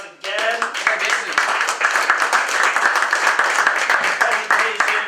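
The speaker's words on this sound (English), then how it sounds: "Let's give him a round of applause again." An audience at a weekly startup meetup claps for a presenter, dense and loud applause that starts abruptly and carries evenly throughout, with cheering voices mixed in.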